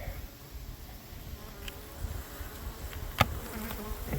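Many honeybees buzz in a continuous drone close by, with a few brief clicks and knocks cutting through the steady hum.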